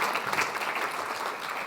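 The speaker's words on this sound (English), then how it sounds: "can we get a big round of applause to rejoin us on the stage for Andy, Jan, and Marina." An audience at a climate and health conference applauds, a dense, steady wash of clapping filling the whole short stretch.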